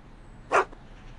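A dog barks once, sharp and close, in the video game Back to the Future: The Game, a single short bark against a quiet backdrop, with another sound starting just as it ends.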